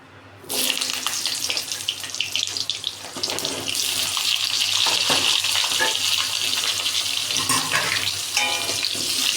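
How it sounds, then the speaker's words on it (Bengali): Potato pieces hit hot oil left in a wok, setting off a loud, steady, close hiss of frying that keeps going with no talk over it. "কড়াইতে যে তেল আছে ওই তেলের মধ্যেই আমি আলুগুলোকে দিয়ে"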